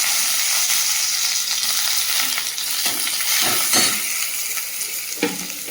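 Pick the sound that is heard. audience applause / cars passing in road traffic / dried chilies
dried chilies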